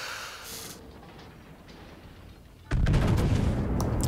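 Naval gunfire from a Cleveland cruiser in World of Warships, heard as a sudden loud broadband blast after a quiet stretch, followed by sustained booming rumble and a few sharp follow-up reports.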